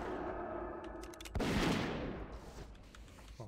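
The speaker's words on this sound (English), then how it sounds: "This Magi blunderbuss is really good. Really slow shots, but packs a punch." A heavy Magi blunderbuss fires in World of Warcraft Classic, played as a dwarf hunter. One booming, close shot fades into a long rumbling tail, with faint clicks and game sounds around it and no voices.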